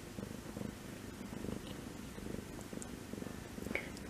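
A mother cat that has just had kittens purrs up close in a steady, rhythmic rumble that continues throughout, with no talking over it.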